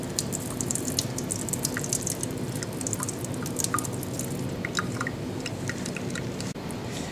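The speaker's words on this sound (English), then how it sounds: "And after we clean it with water." Water rinsing a blood-collected swab during a Kastle-Meyer blood test: a steady, close hiss of running water with scattered small drips and splashes throughout, no talking.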